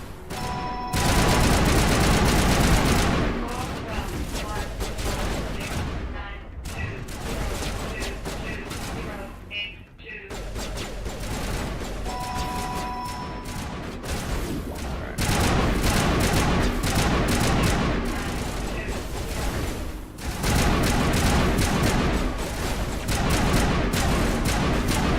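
Bursts of automatic weapons fire and thuds in Mass Effect Legendary Edition combat, loud volleys separated by brief lulls, with a player talking over the fighting.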